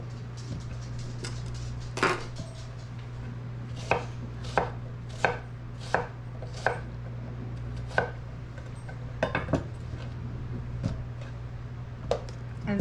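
Knife chopping zucchini on a cutting board, sharp distinct knocks spaced irregularly, sometimes in quick pairs, over a steady low hum.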